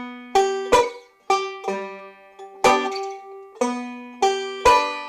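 Banjo in Earl Scruggs style plays an elaborated vamping pattern of eighth-note strokes with fretted chords on the fourth and second strings, from an "Across the Blue Ridge Mountains" lesson; crisp plucked chords snap out in an uneven rhythm, close and alone.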